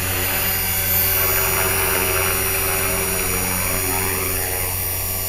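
A Turnigy-powered HK-450 RC helicopter flies outdoors in cold weather, its rotor and motor producing a loud, continuous whine with a steady drone throughout, no voices over it.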